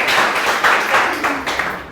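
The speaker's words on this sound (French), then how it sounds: "Ça va applaudir pour elle, s'il vous plaît." Audience applauding, a continuous dense wash of many hands clapping with slight swells and dips, loud and close throughout.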